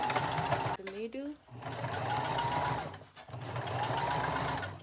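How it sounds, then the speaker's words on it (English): A sewing machine runs in long steady bursts as it stitches through the middle of a ruffle dress, close and whirring, with a short pause between runs and a voice talking briefly in the gap. "You place it on the machine and sew"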